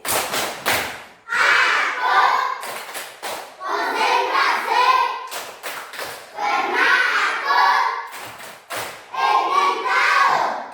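Children in a classroom do a rhythmic concentration clap, bursts of group hand claps in a set pattern alternating with chanted voices, loud and close.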